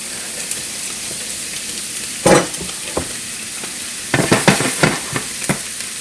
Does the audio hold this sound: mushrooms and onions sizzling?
yes